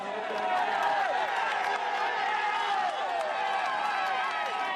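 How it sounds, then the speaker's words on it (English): Roadside crowd at a Tour de France mountain time trial in Megève, a steady dense roar of cheering and shouting voices filling the air throughout, close and loud with no pause. "Look at that crowd now."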